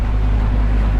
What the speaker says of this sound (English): engine's running well, the telltale's nice and strong down there